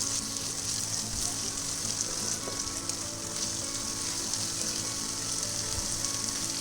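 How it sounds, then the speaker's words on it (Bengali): Fried fish koftas gently stirred into a spiced masala with green chillies in a pan, a steady low sizzle running evenly throughout with faint scraping and no talk. "আস্তে আস্তে করে মশলার সাথে কোপ্তাগুলো মিলিয়ে দেব"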